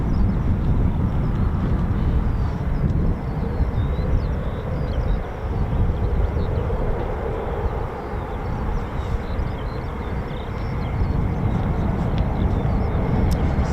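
F-16 fighter jets with Pratt & Whitney F-100 engines at RAF Waddington during a Cobra Warrior exercise, a loud sustained roar and rumble from engines running on the ground, steady throughout with slight swells and no talk.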